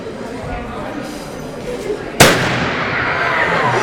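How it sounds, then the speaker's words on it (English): A hydrogen and air mixture detonates in a single sharp, very loud bang partway through, rising abruptly out of a steady background with faint talk before it and a lingering noisy decay after. "eventually you'll get an explosive mixture of hydrogen and air, and it will go bang very loudly"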